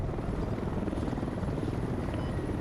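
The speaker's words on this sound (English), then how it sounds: "That was our helicopter." A helicopter in the video game Squad gives a continuous low, thick rotor roar that holds at a steady level throughout, with no talk over it.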